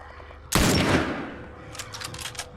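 A single loud gunshot in the game The Last of Us Part II, a sharp close blast with a long decaying tail, followed by a few faint crackling pops.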